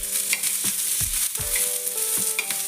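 Onion masala for fish curry fries in a pan with a steady close sizzle, while repeated scraping stirs thump and rasp against the pan several times.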